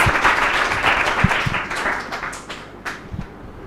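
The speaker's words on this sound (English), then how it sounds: "let's please clap for these two brave volunteers" An audience claps for two volunteers at a talk on street animals, a dense burst of applause that is loudest at the start and thins out over a few seconds, with a few sharper individual claps.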